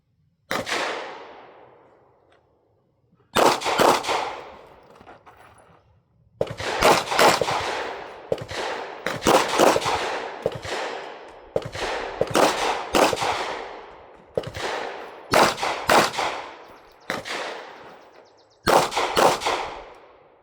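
Pistol shots from a Ruger RXM during practice drills, sharp loud reports in irregular bursts with short gaps, some shots spaced singly and others in quick pairs, ringing off nearby surfaces, with no talk.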